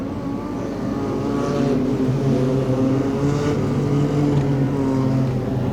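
A pack of wingless sprint cars racing around the Archerfield Speedway oval, their engines blending into a steady loud droning roar with rising and falling pitch as the field circles the track, with no commentary over it.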